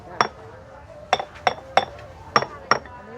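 A stone mortar from Ang Sila is tapped six times, each strike a sharp ringing clink with a brief resonant tail, spaced unevenly at close range over a quiet background.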